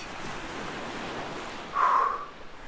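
A cold-water shower runs with a continuous hissing spray and a louder gush near the end, no voices over it.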